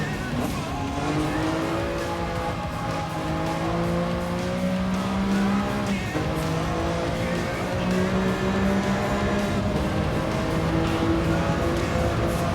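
Racing car engines in the Gran Turismo video game, a loud, constant whine with sliding pitch as gears change, tires squealing at points and other cars audible around it.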